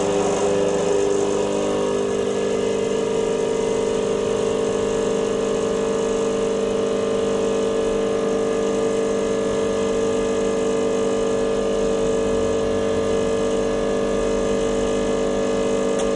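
A Ranclio espresso machine pump running with a steady, loud mechanical hum and buzz that drones on without a break.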